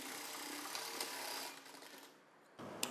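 A sewing machine runs along the folded neck edge of a blouse, humming steadily up close, easing off and pausing briefly, then starting up again for a short final burst.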